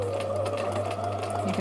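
A sewing machine runs fast and steady close by, stitching its longest, widest zigzag across fabric in a continuous whirring hum with a rapid mechanical rhythm; no talking.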